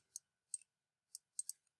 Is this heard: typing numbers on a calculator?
yes